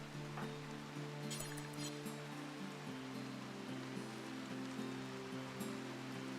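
Rain in the colony-building video game RimWorld falls as a quiet, continuous hiss over a low, droning musical tone, with occasional faint patters.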